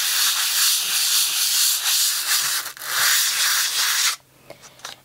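A brush spreading gesso over an art board in circular motion makes a steady, close scratchy rubbing that swells and dips with each pass, then stops abruptly near the end.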